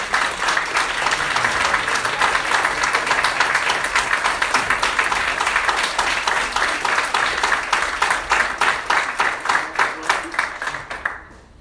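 An audience at a debate-style gathering applauds the speakers, with dense, sustained clapping that stays loud for several seconds before thinning into scattered claps and fading out.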